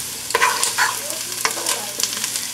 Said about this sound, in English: So now we're going to add the garlic. There we go. Give that a quick stir so they don't burn.